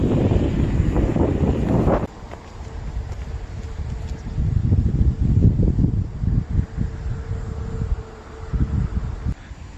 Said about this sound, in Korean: 오늘 날씨가 흐린데 바람도 솔솔 불고 있습니다.